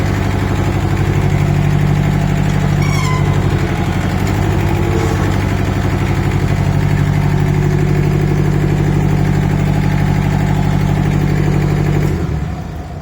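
An Iseki diesel garden tractor mower runs with a loud, steady, close engine drone, which drops away abruptly just before the end.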